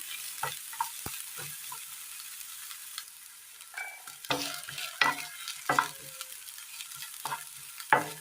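Capsicum sautéing in a pan with a steady soft sizzle, broken by intermittent scraping and clattering stirs that grow busier and louder toward the end; no voices.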